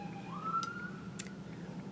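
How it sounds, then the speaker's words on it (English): An emergency siren from vehicles passing by outside, a faint wailing tone rising and holding under low background hum, distant and muffled with no talk. "there's sirens going by."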